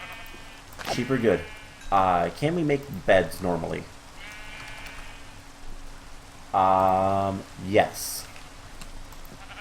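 Sheep bleating in the Minecraft modpack Enigmatica 2, with one long, loud game bleat standing out among a voice talking over it.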